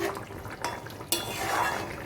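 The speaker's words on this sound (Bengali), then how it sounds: "গুঁড়ো দিয়ে মাছটাকে একটু ঢেকে দেবো।" A lid clinks down onto a pan of light fish curry dusted with roasted cumin powder, one sharp metallic knock after a softer clatter, over a faint kitchen hiss.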